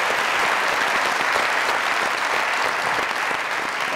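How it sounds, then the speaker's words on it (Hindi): Studio audience applauding at a Pakistani comedy show set, a dense, steady wash of clapping that holds loud and even throughout with no break. "की मैनेजमेंट के लिए तालियां"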